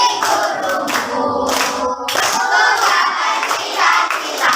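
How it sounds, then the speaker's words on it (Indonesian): A group of people, apparently students in a classroom, claps their hands together in loud, rapid applause that carries on steadily for several seconds with no talking. "Tepuk tangan buat kita semua."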